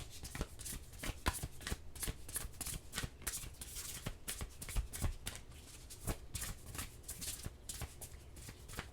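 A deck of oracle cards is shuffled by hand up close, giving a steady run of soft, rapid flicking and riffling sounds that goes on alone for several seconds.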